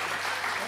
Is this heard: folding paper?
no